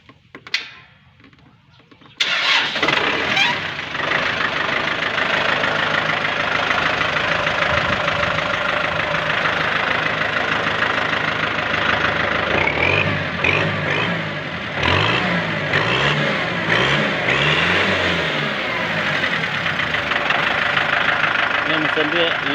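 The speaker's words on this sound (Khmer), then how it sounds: "ម៉ាស៊ីនវាលះល្អបងប្អូន" A 2023 Kubota M6040 tractor diesel engine cranks and catches after a brief quiet start, then settles into a loud, steady, close idle with a rhythmic knocking chug and a voice talking over it.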